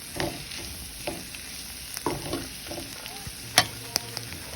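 Bitter gourd (pavakkai) fries with a soft, steady sizzle in a pan, broken by intermittent spatula taps and scrapes from stirring.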